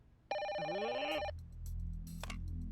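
A telephone rings once in a loud electronic burst with a wavering tone that lasts about a second, then stops, leaving a low background hum.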